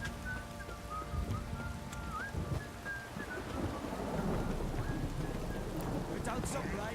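A heavy rainstorm with thunder in The Witcher 3 gives a dense, steady downpour and low rolling rumbles. Faint sustained tones run over it in the first half, and no one speaks.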